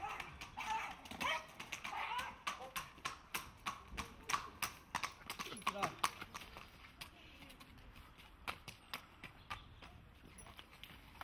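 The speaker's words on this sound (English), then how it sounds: "when he's trotting with his horse" A trotting horse clip-clops in a steady, even rhythm on the open road, the hoofbeats moderately near over a faint background hiss.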